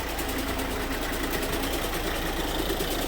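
A Citroën C4 1.6 HDi diesel engine runs steadily during a decarbonising treatment, a dense, even idle clatter with a fast regular tick, close and loud with no talk.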